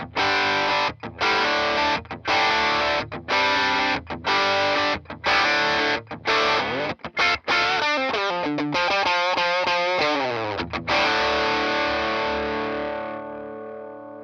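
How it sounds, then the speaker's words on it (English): An electric guitar played through an overdrive pedal into a Mojotone Blackout Tweed amp rings out in loud, driven chords with brief rhythmic stops, then a long sustained strum with wavering tones that slowly fades into silence. "What overdrive pedal did you just turn on?"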